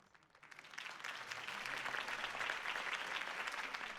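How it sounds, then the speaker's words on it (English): Crowd applauding after a political campaign speech in the Batman Telltale video game: dense clapping that swells in quickly and holds steady, fairly distant and soft. "If only Mr. Wayne, my campaign's largest backer, could have heard that applause"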